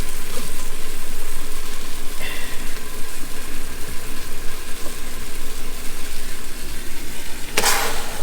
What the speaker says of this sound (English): you see all the sauce is boiling and it's very fragrant now